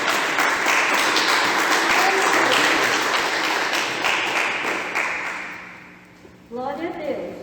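A church congregation applauds during a Portuguese-language evangelical service, a dense, loud wash of many hands clapping that holds steady for several seconds, then tapers away as a voice rises at the end.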